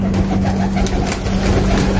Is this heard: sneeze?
no